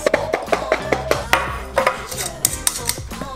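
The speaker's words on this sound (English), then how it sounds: "Then grab a mason jar and throw your garlic pieces right in there. Throw the lid on, and just shake it up for 30 seconds." Garlic cloves rattle inside a lidded glass mason jar as it is shaken hard, giving a rapid, irregular run of sharp clinks and knocks close by.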